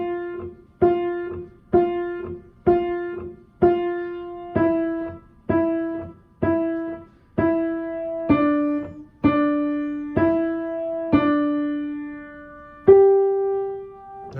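Piano notes of Jingle Bells are played one at a time by the right hand in C position, in a slow, steady rhythm, each ringing briefly before the next, ending on a longer held note.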